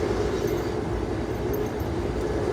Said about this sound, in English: This train, so the train cars go forever.